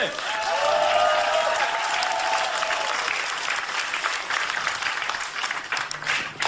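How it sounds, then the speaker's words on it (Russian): A large audience at a Russian comedy show applauds steadily, a dense wash of clapping that holds for several seconds. "Под ваши аплодисменты!"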